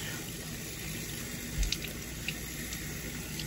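Water runs steadily from a tap into a sink, a constant close hiss with a couple of brief splashes or bumps partway through, and no talking.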